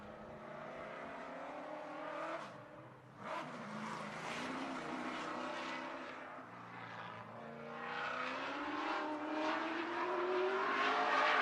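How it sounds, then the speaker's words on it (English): A race car runs a qualifying lap at Slinger Super Speedway, its engine rising and falling as it passes through the corners, heard from the track at moderate distance with a steady roar that swells toward the end. "First car to qualify, the number 28 of Jesse Bernhagen"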